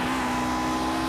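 A Lotus 49C historic race car in Project Cars at Silverstone runs at high revs, a steady droning engine whine with strong harmonic tones, loud and close, with no break audible in the brief moment.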